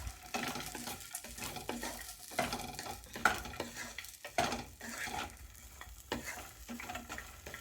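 Idli upma with cashews sizzles in a pan while a spoon stirs it, giving steady scraping strokes over a continuous close frying hiss, with no talking.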